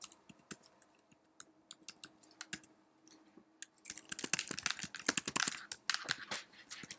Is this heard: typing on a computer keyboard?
yes